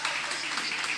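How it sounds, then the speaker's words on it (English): Audience applause at an event in Dennery, a brief steady wash of clapping, moderately faint and continuous. "Feel free to give him a round of applause as well."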